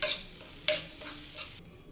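Cumin seeds fry in butter on a tawa for tawa pulao, with a bright, crackling sizzle and two sharp bursts as the pan is stirred, then fading out, close and with no voices.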